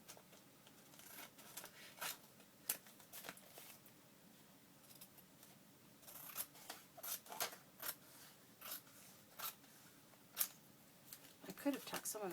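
Scissors trim paper for a junk journal in a quiet room. The snips are short and fairly faint, come in irregular clusters and grow more frequent toward the end.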